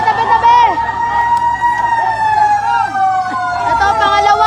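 Fire truck siren wailing at a residential fire in Villar City, loud and close with rising and falling tones, while people shout and call out over it.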